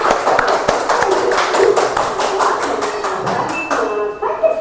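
Children in an Indonesian classroom clap their hands in a quick, loud burst of rhythmic claps that fades toward the end, with some voices in the background.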